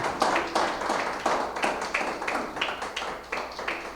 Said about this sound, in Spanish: Entonces denle un aplauso a Jesucristo.